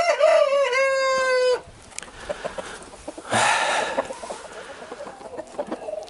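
A rooster crows once up close, loud and drawn out, followed by quieter clucking and a second, rougher crow from nearby fowl in a yard.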